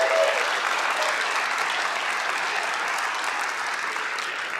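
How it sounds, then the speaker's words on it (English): Sustained audience applause at a Star Wars Legion tabletop gaming convention watch party, a steady dense clapping from a crowd that holds evenly loud throughout without talk over it. "A round of applause for yourself."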